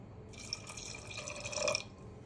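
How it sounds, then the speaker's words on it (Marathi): Water poured from a small pot into an open pressure cooker, a soft trickling splash that swells briefly near the end, close and fairly quiet. "मला अजून पाणी टाकण्याची गरज वाटते,"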